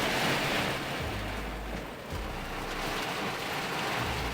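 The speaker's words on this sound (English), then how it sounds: "these waves are getting pretty rough out there now" Rough ocean waves surge onto a beach in Japan, a loud and constant roaring wash with a hissing, wind-blown texture and no voices.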